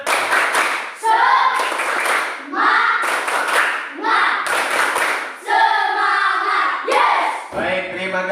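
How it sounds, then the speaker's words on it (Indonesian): A classroom of students performs a rhythmic spirit clap in unison, bursts of hand claps in a patterned beat alongside group chanting voices, close and loud. "sekarang kita coba tepuk semangat"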